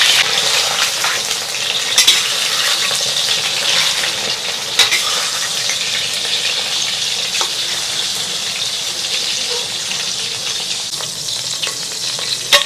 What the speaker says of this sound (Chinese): 这个牛排煎至1分熟就可以了。